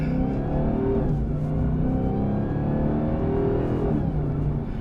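A 797-horsepower 2021 Dodge Charger SRT Hellcat Redeye Widebody accelerating hard in track mode, a loud, close, heavy engine roar climbing in pitch through quick gear shifts without pause.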